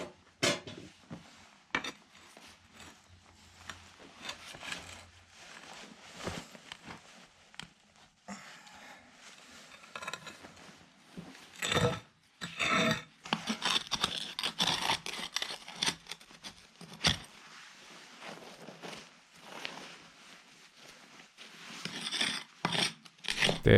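A small pickaxe scrapes, grinds and pries at the soil around a stubborn stone while a storage-shed site is levelled, giving irregular bursts of harsh rasping and metallic knocks, close and loud, with quieter pauses between.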